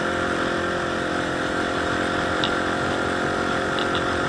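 A motorcycle engine runs continuously during a rev-matched downshift, a steady mid-pitched drone held at a constant level with little audible rise or fall, close and loud throughout.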